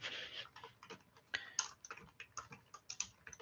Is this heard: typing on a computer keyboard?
yes